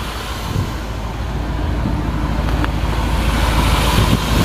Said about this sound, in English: You know, it's got the dual exhaust. Get a little rumble back here.